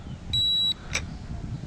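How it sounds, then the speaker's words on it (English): Heliway 903HS RC helicopter giving a single steady high electronic beep at startup, followed a moment later by a short sharp chirp, all against quiet room noise. "You hear it beep, and then it starts the motor."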